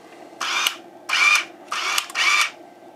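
A Polaroid SX-70 instant camera's autofocus motor whirs in four short bursts, each lasting about half a second, close and mechanical.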